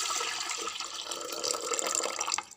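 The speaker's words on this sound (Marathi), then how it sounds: "त्यात आपण टाकूया पाणी" Water is poured from a vessel onto washed lentils, making a steady close splashing gush that fades away at the end.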